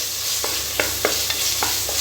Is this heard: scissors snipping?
no